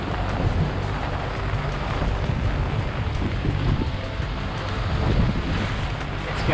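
A rain squall sweeps in over open sea aboard a sailboat, a broad continuous hiss of rain and wind with rushing water beneath, loud and steady throughout.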